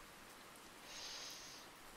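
Rain ambience plays softly in the background as a faint, steady hiss with a slightly brighter patch in the middle.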